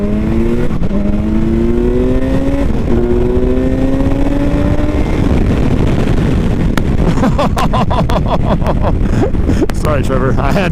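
A 2016 BMW S1000XR motorcycle engine revs up through gears in rising sweeps, loud and close. Heavy wind roar runs throughout, and a voice talks over it.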